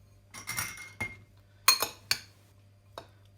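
A spoon mixes diced tomatoes and small zucchini cubes in a bowl, giving a scatter of close, bright clinks and taps against the bowl, some louder than others, with short pauses between.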